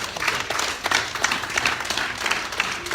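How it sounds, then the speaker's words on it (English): Crowd applause for a president at a town hall meeting in David Dean Town, a steady patter of many hands clapping throughout, fairly close and continuous. "May we give the President a big hand of applause."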